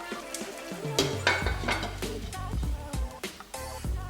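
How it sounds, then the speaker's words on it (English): Beef being stirred in a pot for Nigerian beef stew, with a series of clanking and scraping knocks of a utensil against the pot over a soft sizzle, close and irregular. "mix the beef"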